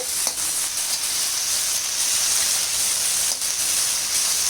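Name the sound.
groundnuts frying in a pan until browned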